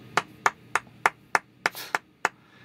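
Eight sharp hand claps ring out in a fairly even rhythm about three per second, close and distinct against a quiet background with faint low hum.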